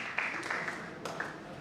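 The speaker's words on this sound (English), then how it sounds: "a round of applause for the" A conference audience at a strategy retreat claps for the technical team, a brief, fairly quiet patter of clapping that thins out within a couple of seconds.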